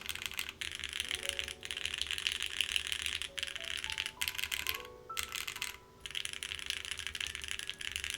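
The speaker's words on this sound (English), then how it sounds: "should I twin with you by typing on my keyboard that has redacted?" Typing on a custom-built mechanical keyboard from an Encore Series 2 build, with steady clicky keystrokes and brief pauses, close and fairly loud against a constant background hum.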